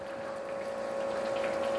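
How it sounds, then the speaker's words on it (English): A Brewzilla Gen 4 electric brewing system's pump circulates mash water in a steady, faint mechanical hum with a constant whining tone over soft watery churning. "the pump is so strong that it just moves it moves it to the sides of the unit"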